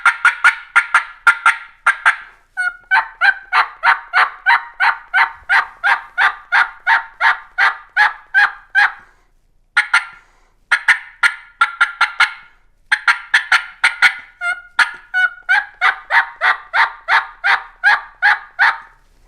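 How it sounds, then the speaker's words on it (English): A wild turkey gobbles and calls in rapid, loud bursts of sharp repeated notes, with brief pauses between runs, close and alone without talk. "And he gobbles."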